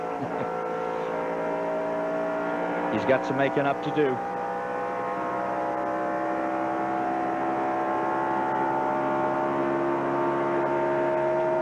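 Race car engines at the 1996 Miller 500 drone at a high, sustained pitch with a brief burst of revving, while a commentator talks over the noise.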